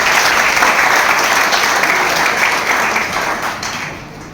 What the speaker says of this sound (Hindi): जोरदार तालियों के साथ आप सर का स्वागत करें।